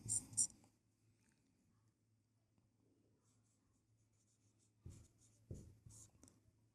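A pen scratches across paper in short, quiet strokes, close up, with brief pauses between bursts of writing in a quiet room.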